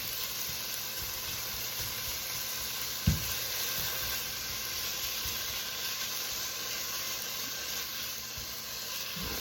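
Pork sausage sizzles steadily in a hot pan for breakfast pizza, a constant broadband frying hiss with one brief knock partway through.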